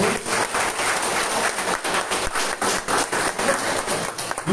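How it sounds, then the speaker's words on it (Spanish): Sustained applause from a group of men at an event in a men's rehabilitation centre, a dense steady patter of many hands clapping together for the whole stretch, loud and fairly close. "Compañeros, un aplauso para nuestra directora."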